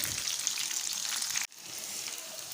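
Soybeans frying in a pan give a steady, fairly quiet sizzle that briefly drops out, then resumes at a softer level.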